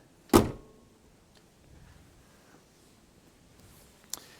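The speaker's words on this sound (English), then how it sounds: "your typical Ford product door closure here" A single solid car door thud from a 1968 Mercury Park Lane Brougham lands near the start, followed by quiet shuffling and a light click just before the end.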